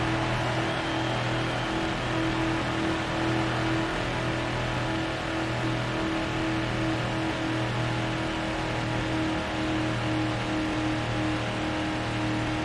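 A NASCAR race car in the NASCAR Heat 5 racing game, stuck bogged down in fifth gear at the Atlanta race, drones along with a steady low engine hum and a constant tone that never climbs.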